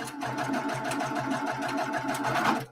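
Sewing machine stitching quilt pieces, running in a steady fast rhythmic hum and needle chatter for a few seconds before stopping, close and alone.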